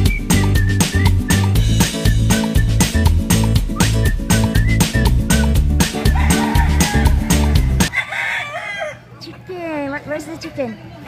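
Chickens cluck and a rooster crows loudly near the listener over busy background sound, and the noisy texture cuts off abruptly toward the end, leaving fainter bird calls.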